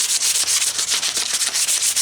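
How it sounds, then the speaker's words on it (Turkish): A beehive frame is sanded by hand with sandpaper to clear wax moth eggs, a close, brisk back-and-forth rasp repeating in steady strokes, loud and alone. "ben zımparayla yapıyorum"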